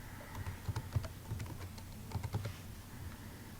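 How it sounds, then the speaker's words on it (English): Keys on a computer keyboard tapped out in short clustered bursts while entering a code into a Google Sites form, quiet and close, with brief pauses between runs of clicks and no talking. "But I do have to type in this code."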